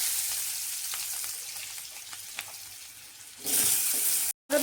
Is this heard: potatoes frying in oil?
yes